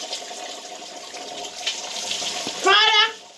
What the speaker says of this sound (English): I'm rinsing out the soap.